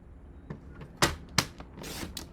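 Paper trimmer slicing cardstock for a handmade 6 x 6 inch greeting card: a few sharp, close swishing strokes, with two crisp cuts early on and a longer rasping pass near the end, heard alone with no talk.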